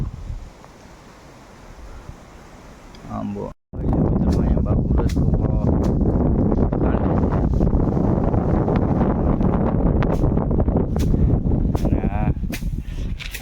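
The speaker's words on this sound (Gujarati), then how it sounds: "જોરદાર પવન ઉગડી ગયો છે ઝાડવા આલોક ડોલોક થાય છે" A strong wind gusts through trees at a farm plot, a loud, roaring rush that buffets the microphone after a quieter start, while someone talks over it.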